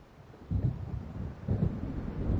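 Low rumbling thunder from an approaching storm in the video game Alan Wake, rolling in two or three heavy swells with wind-like noise beneath, moderately loud and without talk.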